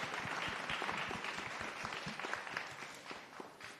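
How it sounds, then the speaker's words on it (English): Audience at a Radical Book Fair talk in Edinburgh applauding, a steady wash of many hands clapping, moderately distant and fairly faint, holding evenly throughout. "We do a round of applause just to ease in."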